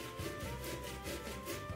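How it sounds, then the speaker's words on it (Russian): Boiled carrot is rubbed against a kitchen grater for a salad layer, a quick run of rhythmic rasping strokes, close and fairly quiet. "ее натираем тоже на терке"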